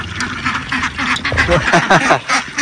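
Ducks quack repeatedly and close by at feeding time, a busy overlapping chatter of calls with scuffling movement, running steadily throughout.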